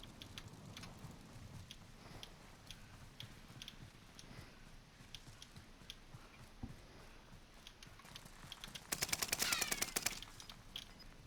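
Rapid automatic gunfire from a first-person shooter match on the Caldera map, a steady rattle of shots under game noise that swells into a loud, dense burst near the end.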